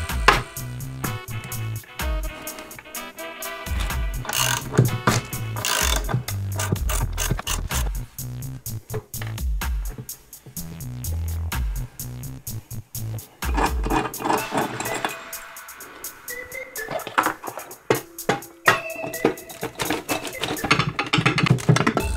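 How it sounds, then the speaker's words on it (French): A crankcase separator puller nut being tightened on a second-hand Yamaha Ovetto scooter engine: close, repeated ratchet clicking in quick bursts, with metallic tool clinks and short pauses between strokes. "on va pouvoir serrer l'écrou du séparateur pour séparer les carters"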